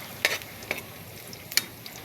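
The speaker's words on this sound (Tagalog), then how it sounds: "nagluto ng ginisang tangkong" Garlic and onion sizzle in oil for ginisang kangkong, a steady frying hiss broken by a few sharp scrapes and stirs of a spatula against the pan.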